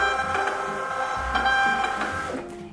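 A wireless home printer runs off sticker sheets, its whirring motor and feed mechanism clicking and shuttling steadily close by, then winding down at the end, with no voices.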